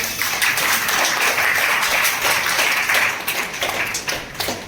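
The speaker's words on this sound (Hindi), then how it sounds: "आप हजरात से दरखास्त है ताली बजाएं" An audience at an Independence Day celebration in Moradabad claps during a bouquet-welcome ceremony, a loud, continuous crowd applause with scattered sharper claps that fades slightly toward the end.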